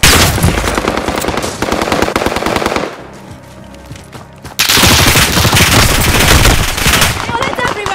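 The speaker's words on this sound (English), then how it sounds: "Bullets everywhere." Loud, dense machine-gun fire in Call of Duty: Modern Warfare, sustained bursts that drop away briefly to a quieter lull before the rattling resumes at full intensity, with voices in the background.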